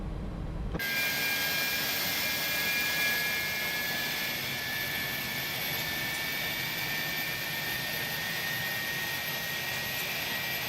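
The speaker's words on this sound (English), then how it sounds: "we can start engine number 2, and engine number 2 is now starting" Airbus A300-600R freighter jet engine number two spooling up in the X-Plane 11 simulator, a steady loud broadband roar with a rising high whine that starts abruptly and holds at a constant level.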